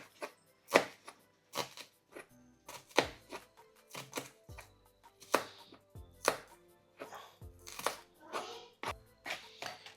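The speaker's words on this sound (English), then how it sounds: "Chop up an onion." A knife chops a small white onion on a board in a home kitchen, with a steady run of sharp, close knocks at uneven spacing and some quiet voices in the background.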